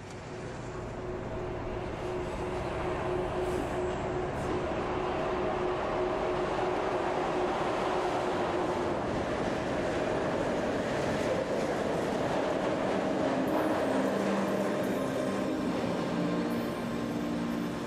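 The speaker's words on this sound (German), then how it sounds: "Viele der Güterzüge fahren durch." Freight trains rolling through the Würzburg rail junction, a steady loud rumble of wagons on track with faint wheel squeal tones, continuous and near throughout.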